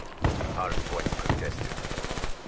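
Gunfire in the multiplayer video game Black Ops 3, with rapid automatic bursts and single shots close up, heard without talk.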